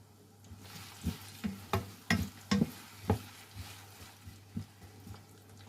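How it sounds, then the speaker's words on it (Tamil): Sizzling oil with a series of sharp pops and crackles as eggplant fries, plus irregular utensil taps against the pan. "இப்போ நான் கத்தரிக்காய் அதுக்குள்ளே போட்டு பொரிக்க போகிறேன்"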